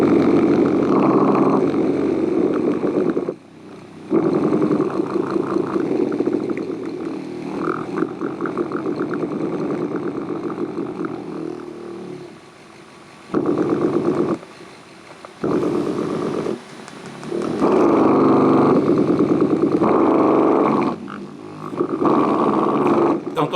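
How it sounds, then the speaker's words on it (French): A vibrating masturbator's motor gives off a loud, raspy, engine-like whine, running in long continuous bursts that cut out and restart several times. "T'entends le bruit, on dirait vraiment un moteur de Formule 1"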